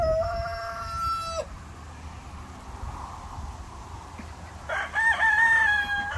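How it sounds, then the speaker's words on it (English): Two ranch roosters crow one after another, a nearby cock-a-doodle-doo at the start and a second loud crow near the end, with quiet outdoor background between. "Got both roosters over here crowing."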